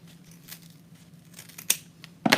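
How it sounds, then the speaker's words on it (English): Scissors snip through ribbon in a quiet room, a few soft cuts building to two sharp, close snips near the end. "you're going to cut an edge off this side"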